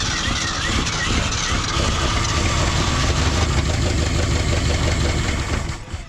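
A Ford dump truck engine, brought back to life after 20 years in a junkyard, runs loud and steady with a close, rough idle throughout and cuts out right at the end.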